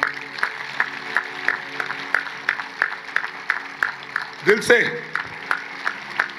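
A church congregation claps in a steady, even rhythm, roughly three claps a second, under a voice, at a gathering led by a pastor in Sangli. A brief louder vocal burst cuts in midway.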